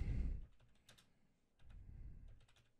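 Computer keyboard typing in two short bursts, keys clicking at close range with a brief pause between, no voices over it.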